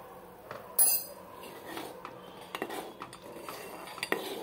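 A metal spoon scrapes and taps against a pot while adding half a spoonful of homemade rasam powder, a sharp clink near the start followed by scattered light knocks and clinks in a quiet kitchen.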